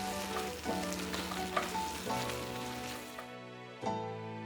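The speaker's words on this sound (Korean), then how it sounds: "소스팬에 담고 중약불에 다시 올려서 골고루 섞어주며 졸여주고" Instant curry sauce with spaghetti bubbling in a saucepan over medium-low heat while being stirred, a soft steady sizzle broken by occasional scrapes and clinks of the spoon, quiet and close.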